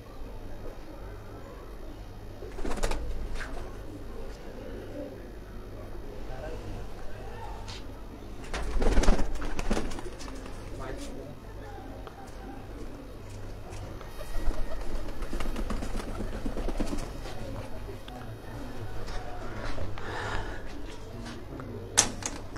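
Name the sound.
pigeons cooing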